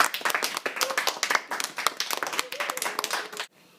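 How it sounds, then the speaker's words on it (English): An audience at a school assembly claps in a brisk, steady patter of many hands for a few seconds before it cuts to quiet. "We always clap at the end of the performance."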